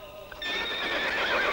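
A bay horse with a star on its forehead gives a single loud, close whinny that rises and wavers over about a second, with no one talking.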